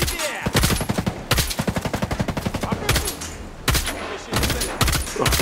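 Rapid bursts of automatic gunfire in Ghost Recon Breakpoint, several loud rattling volleys separated by short pauses, close and sharp.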